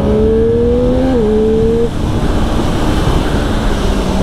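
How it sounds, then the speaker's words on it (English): A 2020 Triumph Street Triple RS engine on road and track, a close, loud tone rising and then dipping briefly as the throttle is worked, settling into a steady rushing engine and wind noise. "Playing with the throttle."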